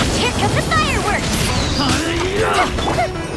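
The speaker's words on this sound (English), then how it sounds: "Here come the fireworks!" Firework-style attack explosions in Genshin Impact: a dense cluster of pops, bursts and crackles over a busy, loud game soundscape, with whooshing effects sweeping through the clip.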